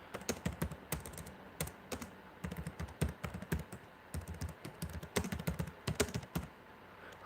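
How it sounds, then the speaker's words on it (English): Rapid typing on a computer keyboard, a dense, uneven stream of close clicks and clacks with louder key strikes throughout, steady for several seconds and with no voices. "I've got fast at typing"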